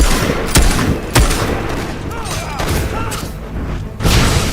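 Sharp booming gunshots from a battle in the fantasy action game Fable III, several loud separate blasts over a noisy background with faint tonal effects between them.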